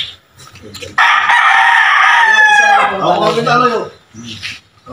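A fighting rooster crows one long, loud, close crow that rises and then trails off, with faint clucks and background farm noise before and after.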